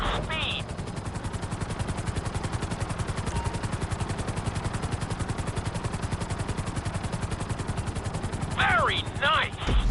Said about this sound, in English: we'll see how well you handle the chopper